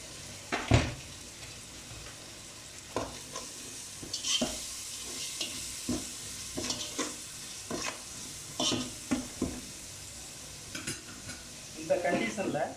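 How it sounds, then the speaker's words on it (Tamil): Ginger garlic paste, masala and mint fry in a pan for chicken dum biryani, a soft sizzle under repeated scraping strokes of a spoon against the pan at an irregular pace. "இந்த கண்டிஷனில் நல்லா இஞ்சி பூண்டு பேஸ்ட்டு மசாலா புதினா இதெல்லாம் நல்லா வதங்கிருச்சு."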